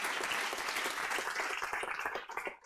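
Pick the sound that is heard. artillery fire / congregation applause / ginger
congregation applause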